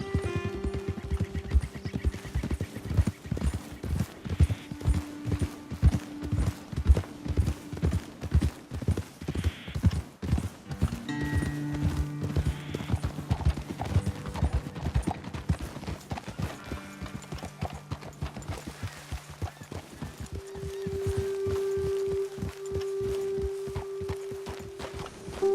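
Horse hooves clip-clop steadily through a ride in Red Dead Redemption 2, a clear rhythmic walking gait up close, with a brief whinny and game music in the background.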